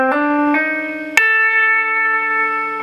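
A distorted electric guitar plays a short blues pentatonic phrase of a few sustained notes, the last one struck hard and left ringing to the end.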